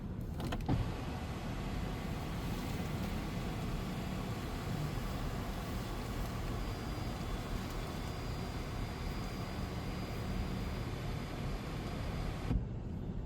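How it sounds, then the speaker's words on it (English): A car's sunroof motor runs open with a steady, faint electric whir and hum inside the cabin, continuous for several seconds with no talking. "How about we open the sunroof?"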